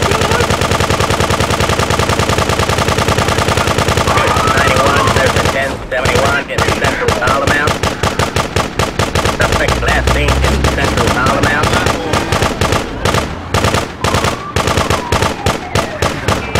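Machine gun fire from the video game GTA 2 starts after a loud, steady game din and becomes a long run of rapid, harsh bursts. The shots are loud and close and fill most of the clip.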